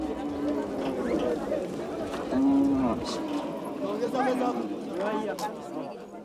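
Cattle at a busy village animal market in Tanzania low in drawn-out moos that rise above a steady murmur of crowd noise, with a narrator speaking over the whole scene.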